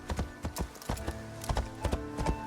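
Horse hooves clip-clop in the video game Assassin's Creed Shadows, a steady, close rhythm of crisp hoofbeats running throughout at moderate loudness.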